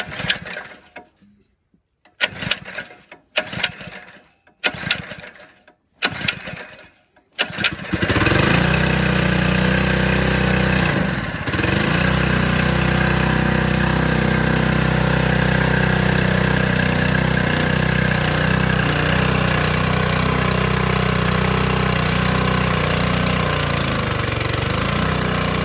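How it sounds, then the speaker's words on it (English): A few short sputtering pulls of a small gasoline engine powering a maple sap pump, then it catches and settles into a loud, steady, close-up idle that runs on continuously. "Valve is open. Engine is on."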